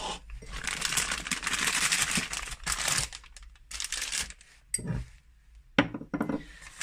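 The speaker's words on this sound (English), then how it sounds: "And squeeze everything down in the bag and twist the top." Buttercream squeezed down inside a plastic piping bag and the top twisted, heard as close, rustling, crinkling plastic in uneven bursts with short pauses, with no talk.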